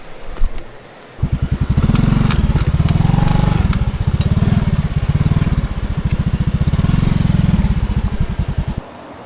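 A motorcycle engine chugs loudly and steadily up close on a rough mountain backroad, a throbbing mid-pitched pulse that starts abruptly after a brief knock and holds for several seconds before cutting off, with a voice faintly underneath.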